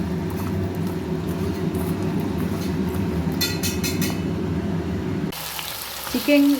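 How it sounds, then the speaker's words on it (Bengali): Chicken lightly frying in oil, a loud steady crackling sizzle close by that holds for several seconds and then stops abruptly, followed by a short clatter of utensils. "চিকেনটা একটু তেলের মধ্যে ফ্রাই করে নিচ্ছি, হালকা ফ্রাই করে নেব এটা"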